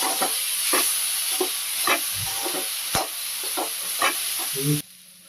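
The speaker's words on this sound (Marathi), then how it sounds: "परत आता 1-2 मिनिटं असं मी परतून घेते बटाटा आणि तेंडली." Potato and ivy gourd (tendli) being stir-fried in a pan at home, with a steady sizzling hiss and repeated clinks and scrapes of a spatula stirring, close and alone, before the sizzle cuts off near the end.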